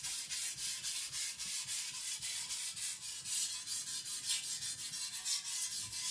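A custom Chinese cleaver is stroked back and forth across a sharpening stone in an even, rhythmic series of about twenty close scraping rubs, with no talk.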